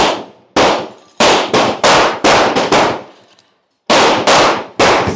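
A Harpoon Magnum 72 caliber shotgun fires 1280 grain slugs in freezing weather, about eight loud sharp blasts in an uneven sequence, each ringing off quickly, with a longer pause before the final pair.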